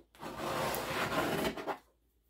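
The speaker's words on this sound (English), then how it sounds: "Clean off the scraper and do the next row." A scraper drags across a sticky Silhouette cutting mat, lifting dirt and glitter in one steady, close rasping stroke that lasts over a second before trailing off into quiet, with no voices.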